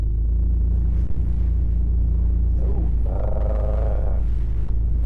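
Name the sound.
cheap Ford Aerostar minivan driving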